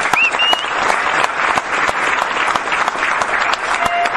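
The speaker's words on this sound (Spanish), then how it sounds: "pido un aplauso." A live audience applauds a family remembered at a talk, steady dense clapping filling the room without a break, fairly loud and close, with a few sharper individual claps standing out.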